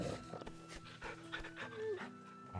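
A dog pants quickly and rhythmically in the video game Final Fantasy XVI, close and moderately loud, with faint game music and ambience underneath.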